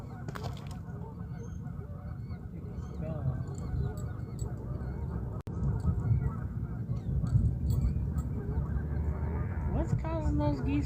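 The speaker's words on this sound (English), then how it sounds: "those geese go nuts" A flock of geese honks loudly and persistently near a fishing spot, overlapping nasal calls throughout with a brief gap midway, over steady outdoor background noise.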